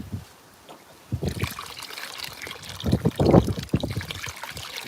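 Water pours and trickles down through a gold trommel into a small gold pan, a close, splashy gurgle that starts after a quiet moment and swells into uneven sloshing bursts.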